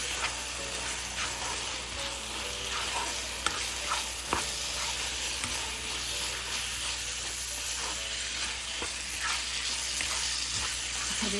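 Ground chicken curry with turmeric frying in a pan, a steady close sizzle running throughout with repeated scraping stirs and occasional utensil taps.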